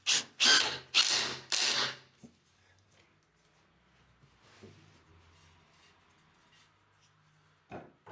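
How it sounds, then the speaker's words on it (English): A power drill countersinks a drilled hole: three or four loud, close, whirring bursts come in quick succession, then a quiet stretch with faint handling noises and one short burst near the end. "Now I'm going to carefully countersink it."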